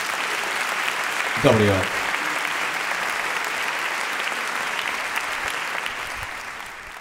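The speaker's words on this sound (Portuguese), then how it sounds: "Uma salva de palmas para vocês." Sustained applause from a comedy show audience fills the whole stretch, dense and even, while someone briefly speaks over it near the start.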